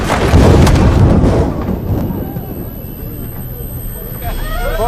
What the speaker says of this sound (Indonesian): Karena buruknya cuaca membuat pesawat mereka tersambar petir